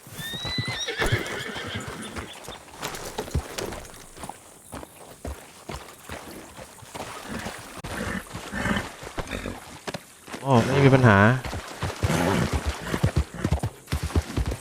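Horse hooves clip-clop in a steady rhythm during a ride in a video game, with loud neighing and whinnying standing out midway, mixed with game sounds and brief bits of speech.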